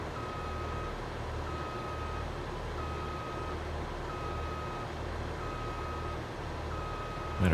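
A tractor in Farming Simulator 22 backs up with a steady, evenly repeating reversing beep over a low, constant engine drone, moderately quiet throughout.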